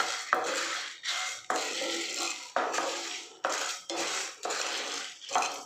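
Masala is roasted in a pan and stirred with a spoon. About six rhythmic scraping strokes, roughly one per second, each a close, gritty sweep against the metal, with no talking.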